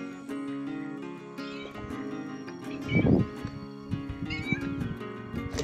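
A cat in the village of Trabadelo on the Camino de Santiago gives a clear, fairly close meow in the middle, amid outdoor background sounds.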